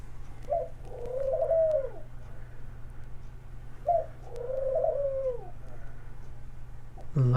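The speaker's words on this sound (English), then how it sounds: "There's my bird, Scarlet." A pet dove cooing indoors, two soft rolling coo phrases a few seconds apart, fairly close and clear, ending with a short sharp knock.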